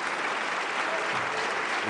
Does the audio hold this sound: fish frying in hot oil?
no